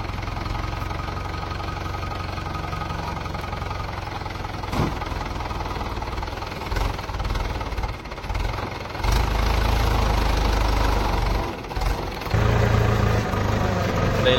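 Mahindra 475 tractor engine idling steadily before rotavator work among lemon trees in a village, a continuous low throbbing hum close by with slight rises and dips in level.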